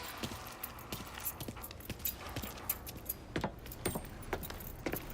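Car keys jangle in the crime game Mafia III, a series of light metallic clinks and rattles repeating irregularly over a few seconds, close and fairly quiet.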